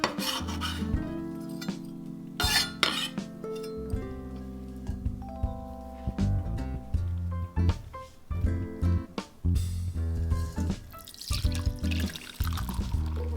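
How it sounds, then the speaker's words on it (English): Liquid from a can of chickpeas draining off in a kitchen, with a steady close trickle and splash mixed with rattling and rubbing as the chickpeas shift about, no talking. "Drain chickpea liquid"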